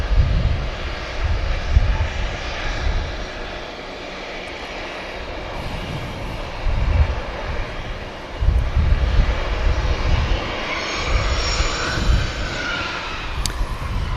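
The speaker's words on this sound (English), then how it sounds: "Now finally, beginning the taxi onto the active is Logan Air." A Logan Air plane taxis at Manchester Airport, its propeller engine droning steadily and fairly loudly with rising and falling surges, under faint wind and no talking.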